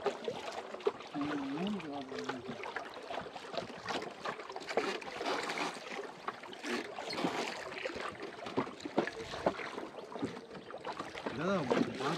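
A rowing boat moving along the Garhal river under a mild breeze, soft water swishes and paddle strokes mixed with wind noise and faint ambient voices throughout.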